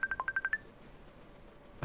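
Electronic ringing comes from a Facebook tab open on a laptop: a quick run of seven short, evenly spaced bright tones, then quiet, then a brief louder burst at the end.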